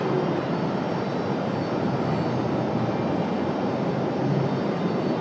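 American Airlines Airbus A321 at Raleigh Durham airport, a continuous loud engine rumble with a dense broadband rush, steady from start to end, with no speech.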